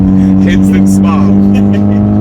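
A Nissan Pulsar GTiR all-wheel-drive car engine hums steadily while its turbo blow-off valve releases a few quick, airy hissing whooshes near the start.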